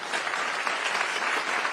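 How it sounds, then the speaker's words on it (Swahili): Audience at a forum with people living with disabilities applauding presenters, a dense, continuous burst of clapping from a crowd in a hall, steady throughout the brief moment. "Situpigie presenters wetu makofi"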